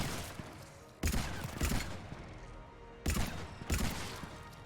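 Bursts of gunfire in the sci-fi shooter Mass Effect, two clusters of sharp broadband shots with quieter gaps between, fairly close and loud with no talking.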